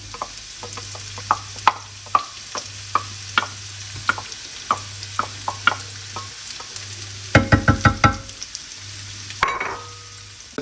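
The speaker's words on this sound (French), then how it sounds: "On va mettre également notre oignon à revenir." Onion sautéing in a pan, with sharp scrapes and taps of a utensil stirring at intervals over a soft sizzle and a low steady hum, close and without talk.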